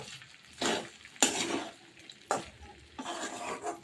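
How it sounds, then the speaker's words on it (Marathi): Crushed peanut powder is stirred and sautéed in a pan for sabudana khichdi. A spoon scrapes in four slow strokes over a faint sizzle, close and soft, with no talking. "आणि हा शेंगदाण्याचा कूट परतून घेते."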